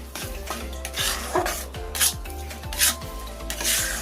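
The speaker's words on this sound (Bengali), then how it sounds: "এবার এই সুজিটা গাজরের সাথে খুব ভালো করে মিশিয়ে একটা ডো তৈরি করে নেব।" Semolina is stirred into carrots in a pan, producing rhythmic scraping strokes of a utensil against the metal, about one per half second, close and clear, with soft clinks.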